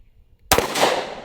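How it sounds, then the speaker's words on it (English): A SIG 1911 pistol fires a single .45 ACP 230-grain jacketed hollow point round after a short quiet pause, one sharp loud crack followed by a brief reverberant tail. "I have a SIG 1911, and I'm loaded up with some 45 ACP 230 grain jacketed hollow points"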